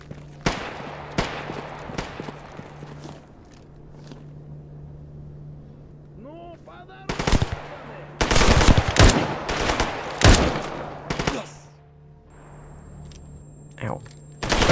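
Gunfire in the shooter game Stalker GAMMA: scattered single shots at first, then a loud cluster of rapid bursts midway, with softer background game ambience throughout.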